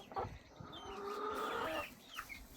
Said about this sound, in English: I have 9 laying hens, 4 teenagers, and that's the rooster right there.